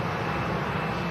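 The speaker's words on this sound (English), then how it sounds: "Janet saying a Merlin's just gone over" A Merlin-engined aircraft passes overhead in a steady, loud engine drone with no talking over it.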